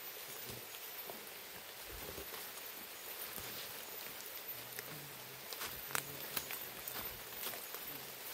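Rain patters steadily on leaves and surfaces outdoors, a soft continuous hiss broken by a few sharper drops and faint rustling, with no one talking.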